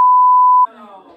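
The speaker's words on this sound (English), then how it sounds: "No, don't beep." A single steady electronic beep rings loud and clean for about half a second, then cuts off as quieter voices talk in a domestic room.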